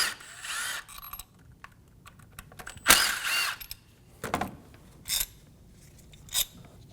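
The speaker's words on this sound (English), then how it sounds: "Using a T30 Bit, remove the two screws for the ignition coil." A T30 bit backs out ignition coil screws on a 1.4L Chevrolet Trax, giving short ratcheting clicks and brief metallic bursts with quiet pauses between them, heard up close and without talking.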